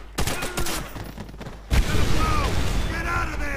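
A loud explosive boom in the video game Call of Duty: World at War erupts partway through, following a spell of rapid gunfire-like pops, with noisy rumbling debris and crackle trailing after.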